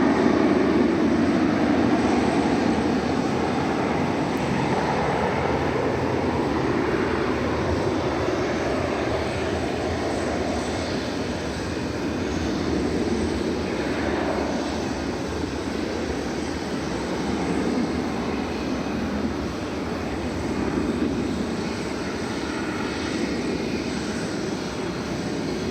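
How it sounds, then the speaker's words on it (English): An Airbus A321 starts its takeoff roll on runway 18 left at DFW Airport, a steady, broad jet engine roar heard from a distance that holds even and unbroken throughout, with no talk. "It's an Airbus A321. Starting to roll on runway 18"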